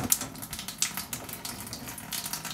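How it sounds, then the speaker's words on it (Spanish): Tap water runs steadily into a sink while ground beef is rinsed, a soft continuous splashing with a few brighter splatters, faint and close with no talking. "Vamos a enjuagar la carne ya."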